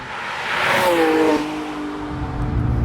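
A McLaren 675LT Spider supercar with an aftermarket exhaust revving while driving, the engine note climbing sharply then easing off, loud and close with a rushing whoosh as it passes.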